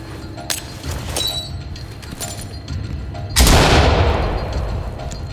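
Gunfire during a SWAT raid on a bio research center in the game Ready Or Not, with several sharp close shots and then a loud booming burst that rings out and decays.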